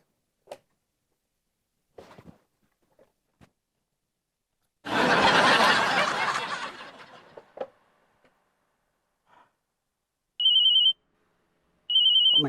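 An office landline telephone rings twice in short, steady electronic bursts near the end, after a long noisy burst and a few faint clicks in an otherwise quiet room.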